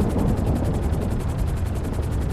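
An airplane flies past in a video game, making a steady rumbling drone with a fast, even pulsing beat at moderate loudness.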